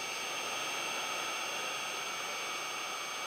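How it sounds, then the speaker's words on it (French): A police helicopter over a Marseille housing estate, heard as a steady, faint broadband rotor and turbine hiss that holds evenly without change. "Un hélicoptère."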